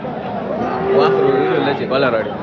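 A calf at a busy cattle market lows in a drawn-out moo, close and fairly loud, while people talk and bustle around it.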